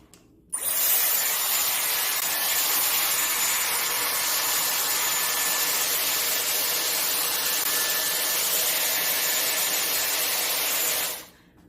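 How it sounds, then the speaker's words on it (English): A Dyson Airwrap hair styler with a round brush attachment blows steadily and loudly, a continuous airy whoosh starting abruptly after half a second and cutting off near the end, with no talking. "going to use my Dyson Airwrap and some of the tools to give it some style and a freshened look"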